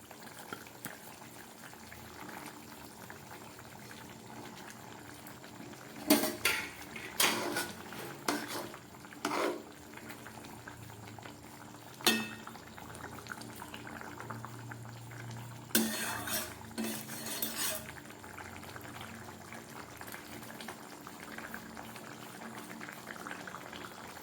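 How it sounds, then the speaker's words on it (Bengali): Fish curry with potatoes simmers at a soft steady bubble in a pot, broken by a few sharp clanks and scrapes of a utensil against the pot; no voices. "মাছের ঝোলটা একদম ফুটে উঠেছে।"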